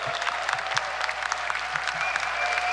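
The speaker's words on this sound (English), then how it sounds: "big round of applause" Steady round of applause from the audience at a UFC press Q&A, many hands clapping evenly throughout with a faint hum underneath.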